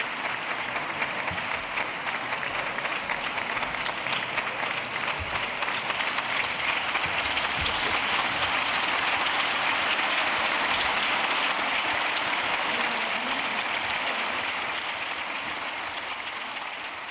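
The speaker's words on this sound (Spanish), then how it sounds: "contrarrestada además con aplausos más sonoros por parte del resto del hemiciclo" Sustained applause fills the Spanish Congress of Deputies chamber, a dense, steady wash of many hands clapping that holds at an even level for the whole span and tapers slightly at the end.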